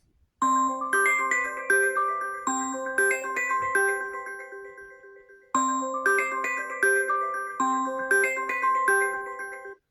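A phone ringtone played on a second Samsung device, a layered chiming bell tune with bass underneath that loops twice, close and steady, no voices.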